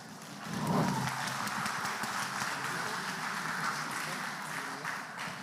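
A live-streamed developer event prize draw fills with sustained audience clapping and cheering, a dense, even crowd applause that holds for several seconds at moderate loudness.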